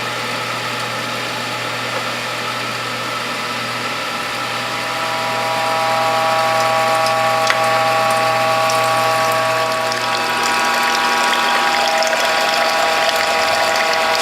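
A Whole Health juicer running while pressing juice from packets, a steady close mechanical drone with a ratcheting, grinding tone that grows slightly louder partway through, with no talk.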